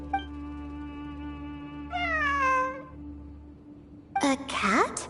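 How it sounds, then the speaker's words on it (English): Cat meowing in the video game Genshin Impact, two drawn-out meows separated by a pause over a steady humming ambient tone, the second meow sharper and louder. "It really is a cat."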